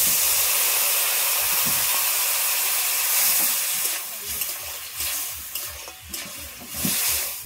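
Dissolved mango pickle water goes into a hot pan of fried eggplant, setting off a loud, hissing sizzle. The hiss eases into bubbling and scraping stirring sounds, close up, with no voices.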